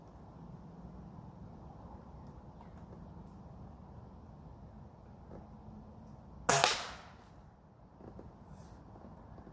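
A single sharp BB gun shot fired outdoors at a distant target, a brief crack with a short decay, standing out against quiet ambient background.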